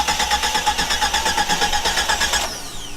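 A car engine sputters and labors after running out of gas, pulsing in a steady rapid rhythm of uneven firing for a couple of seconds before dying down, close and fairly loud.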